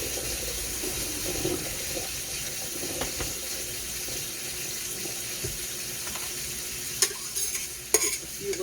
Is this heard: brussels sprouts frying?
yes